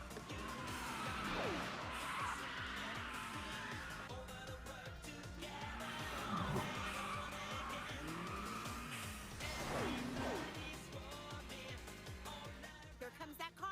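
A racing car in the Initial D anime corners hard with tires squealing in long rising and falling screeches over a droning, buzzing engine for the whole stretch, loud and close, with no voices.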